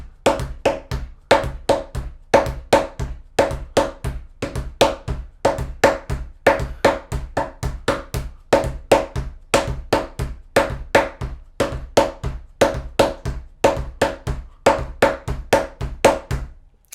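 A hand drum is played with slap strokes in a brisk repeating rhythm, sharp bright cracks alternating with deeper hits in quick clusters, close and loud throughout without talk.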